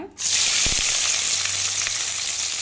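Sliced onions hit hot oil in a kadai and burst into a loud, steady sizzle that holds evenly, with a couple of faint low knocks early on and no voices.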